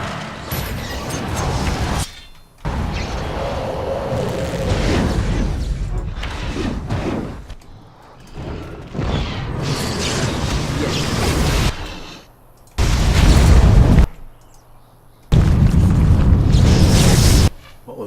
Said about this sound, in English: Earthquake.